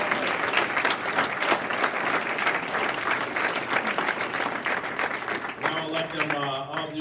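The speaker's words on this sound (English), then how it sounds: "Give the senior class one more round of applause for an amazing year." Sustained, dense applause at a school banquet honours the senior class, loud and even for several seconds before thinning as someone begins talking near the end.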